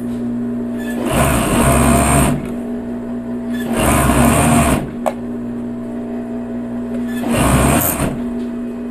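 A sewing machine stitches elastic onto fitness leggings, running in three separate bursts of about a second each, with quiet pauses between them.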